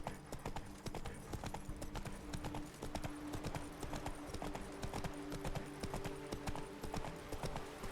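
A horse's hooves clip-clop in a steady, continuous trot in The Witcher 3 video game, over a dense background of game ambience.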